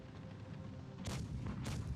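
Two sharp gunshot blasts in a competitive video game match on the Rockfield map, spaced about half a second apart. They cut through a steady, rumbling in-game background.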